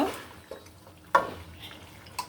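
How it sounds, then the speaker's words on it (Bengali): Beef sautéing in a pan on a stove, with a soft sizzle under a few sharp clinks and scrapes of a utensil against the pan, heard close up. "মাংসটা ভালো করে কষিয়ে নিচ্ছি"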